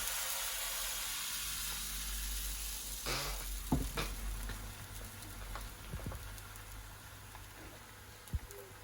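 Crepe batter sizzles as it hits a hot, lightly oiled pan on lowered heat, a steady bright hiss with a few soft clicks and scrapes near the middle and end, close and continuous with no talking.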